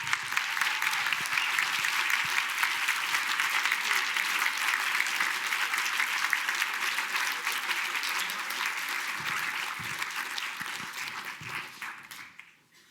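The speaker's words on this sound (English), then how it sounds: "while you give the applause, the trophy is handed over" An audience at the LIFE Awards 2025 applauds during a trophy handover, giving loud, sustained, even clapping for over ten seconds that tapers off and fades at the end.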